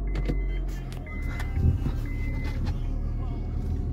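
A broken Honda Accord cranking and catching, a low rumbling engine starting up close by, with someone talking over it.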